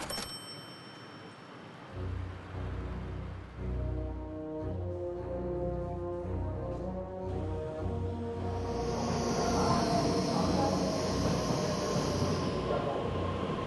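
A Taiwanese passenger train bound for Chiayi rumbles along with humming motors and rising mechanical tones, a high whine building in the second half, steady and close.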